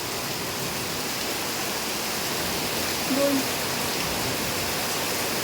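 Heavy monsoon rain pouring outside: a dense, steady hiss of falling water, continuous and fairly loud, with a brief voice partway through.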